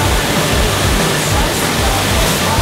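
River water rushes steadily through a natural standing surf wave in Munich, a loud, unbroken roaring wash with no talking.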